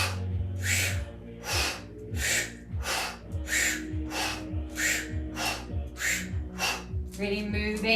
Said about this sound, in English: as we exhale we're going to straighten the arms out to the sides, exhaling through the O-shaped mouth